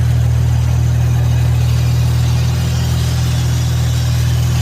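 An Infiniti car engine idles steadily up close with a strong low hum and a constant hissing, airy noise from a faulty PCV valve riding over it, no talking.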